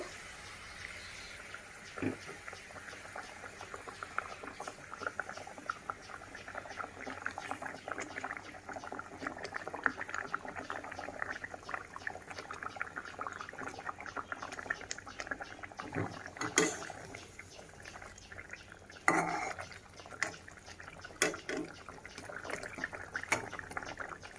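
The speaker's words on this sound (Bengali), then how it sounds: "ঝোলে ভালো করে জাল উঠে গেছে।" Mustard curry broth for rohu fish boils in a pan, giving a continuous soft bubbling and popping with occasional sharper spatters, heard close and fairly quiet throughout.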